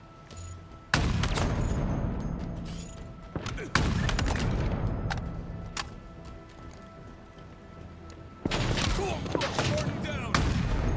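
Rapid bursts of gunfire and sharp sniper-style shots in the Halo video game, loud and dense with heavy impacts and crackling bursts that recur across the clip, separated by brief lulls.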